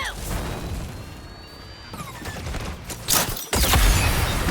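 Rapid gunfire in Suicide Squad: Kill the Justice League during a battle in Metropolis, dense bursts of shots with crashes and whooshes, growing louder and heavier toward the end.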